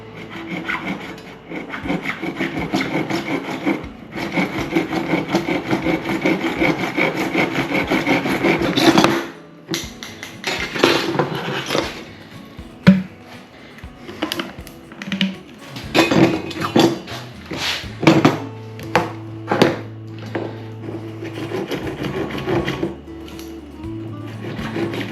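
A hand saw cuts through 1.5 inch PVC pipe, giving loud, close rasping strokes, a pause, then further uneven sawing and handling knocks.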